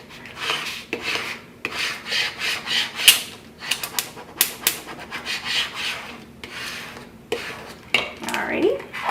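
Repeated rubbing and scraping strokes as a burnishing tool presses layered adhesive vinyl onto a cold cup, firm rasping passes in uneven bursts, close and fairly loud with no talking.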